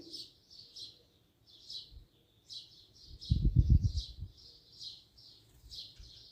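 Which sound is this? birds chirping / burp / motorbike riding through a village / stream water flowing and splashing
birds chirping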